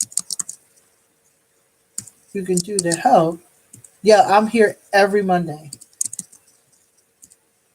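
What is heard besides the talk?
typing on a computer keyboard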